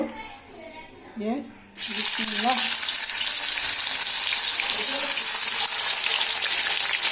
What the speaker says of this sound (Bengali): তো এখন আমি এই যে মাংসটা ভাজবো